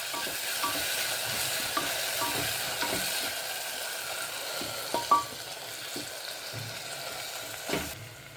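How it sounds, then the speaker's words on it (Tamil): Tomatoes and onions sautéing in a pan, a soft continuous sizzle with intermittent scrapes and taps of a spoon stirring, fairly quiet and close, no talking. "இப்போ தக்காளி வெங்காயம் வதங்கிருச்சு"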